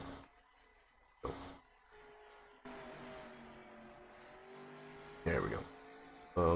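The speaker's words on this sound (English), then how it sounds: "car going around here" A car laps a track in a racing video game, its engine a thin, steady droning tone that rises in pitch, broken by a few loud bursts of talking.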